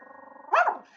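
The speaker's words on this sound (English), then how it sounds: "Oftentimes it would stare off into the hallways and house corners, then let out some growling and barking" A dog gives a low rumbling growl that breaks into a single sharp, loud bark, heard close with no voices.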